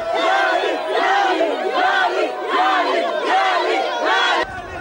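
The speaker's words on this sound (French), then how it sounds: "La communauté gabonaise du Sénégal en liesse attend Ali Bongo Ondimba." A jubilant crowd of the Gabonese community in Dakar, Senegal, welcoming the president chants and cheers in loud repeated rhythmic phrases, many voices singing together in waves before cutting off abruptly near the end.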